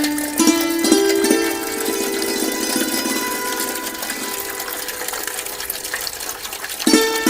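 Biogas plant slurry gushes steadily out of the outlet, a continuous loud watery rushing and splashing that holds at the same level, with no talk over it.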